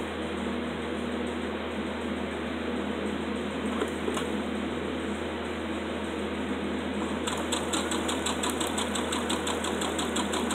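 A sewing machine stitches ribbon onto fabric bunting. A steady motor whir holds throughout, and a quicker rhythmic needle clatter comes in over the last few seconds.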